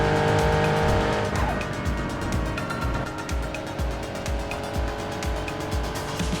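A car runs fast along the Bayshore Route at night, its engine loud and close with a steady roar, brief tire squeal and shifting pitch as it accelerates.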